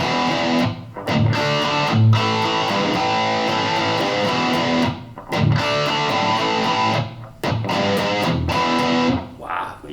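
Distorted electric guitar chords through a Harley Benton Tube 15 valve amp head with the volume pushed, loud sustained strums separated by brief pauses.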